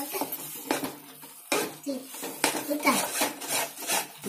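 A spoon scrapes and stirs thick banana halwa cooking with ghee in a pan, making repeated rough rubbing and scraping strokes at an uneven rhythm, close and moderately loud.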